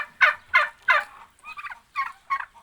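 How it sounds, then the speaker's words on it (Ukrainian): A turkey gobbles in a run of close, loud bursts, with three strong calls followed by several quieter, broken gobbles. No other sounds come through. "Ось такий індик."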